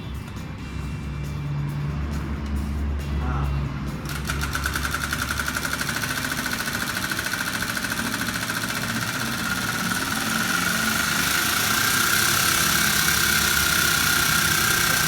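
A rapid, buzzing flutter sets in after a few seconds: a playing card slapping against turning bicycle spokes, steady and loud like a small motor, with a constant whine underneath.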